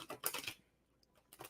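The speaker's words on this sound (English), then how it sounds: "I'm going to shuffle one more time for you guys on this." Soft, quick rustling clicks of tarot cards being riffled come in two short bursts with a quiet pause between them.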